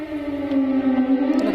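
An air raid siren sounds in Kharkiv, a steady wailing tone with layered overtones held for a short stretch. No speech.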